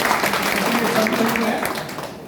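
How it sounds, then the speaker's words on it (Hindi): A crowd at a gathering in Madhepura claps together in a sustained burst that fills the space, with a voice partly audible underneath before the applause tapers off. "चलिए एक बार जो है जोरदार ताली बजा दीजिए।"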